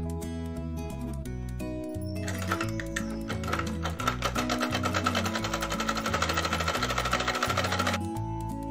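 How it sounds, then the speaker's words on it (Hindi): Electric sewing machine stitching the sleeve of a suit, running in a steady rapid clatter with a brief pause near the start, up close and fairly quiet. "तो मैं सिल रही हूँ सूट का बाजू"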